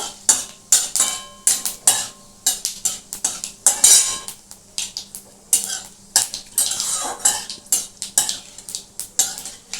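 Dry red chilies and cumin crackle in hot oil while a spatula stirs them, giving a rapid series of sharp metallic scrapes and clinks against the pan over a soft background sizzle.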